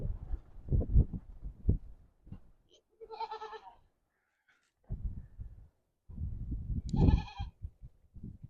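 A goat standing on a log bleats twice, clear wavering calls between stretches of nearby crunching or handling noise, with no talk.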